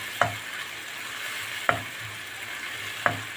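Onions frying in a pan for Turkish sun-dried vegetable güveç, a steady soft sizzle broken by three sharp clinks of a utensil stirring against the pan at even intervals.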